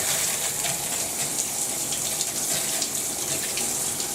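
A VOOLAN rain shower head runs cold water at high pressure, producing a loud, steady, close hiss of gushing spray that continues without a break.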